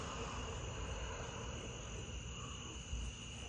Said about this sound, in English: Those are those pig frogs and the bullfrogs.